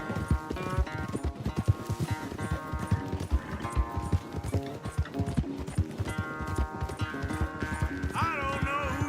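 Horses galloping in a race in Red Dead Redemption 2, with steady rapid hoofbeats that continue throughout, up close and loud, mixed with game music.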